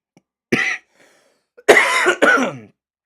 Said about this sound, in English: Sorry guys if you hear me cough.